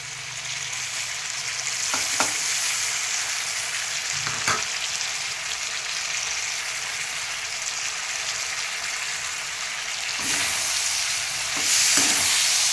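Potatoes frying in a pan as tamarind juice goes in, a steady hiss of sizzling broken by a few sharp clinks and scrapes of stirring, with the sizzle growing louder toward the end and no voices.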